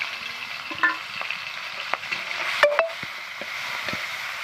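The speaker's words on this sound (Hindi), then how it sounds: "एबे आमे जो प्लेट रे रखिथिलु रसुण आ कंचा लंका को छाड़िबु" Garlic and green chillies frying in hot oil for a fried greens dish, a soft steady sizzle with a few sharp crackles and clinks spread over several seconds.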